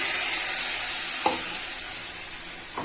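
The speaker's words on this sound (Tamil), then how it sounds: "இந்த ஸ்டேஜில் வந்து நம்ம ரெண்டு சாத்துக்குடியோட ஜூஸை வந்து இதில் சேர்த்துக்கலாம்" Sweet lime juice hits a hot mustard seed tempering and sizzles with a loud, steady hiss that fades slightly, broken by a couple of brief stirring clinks.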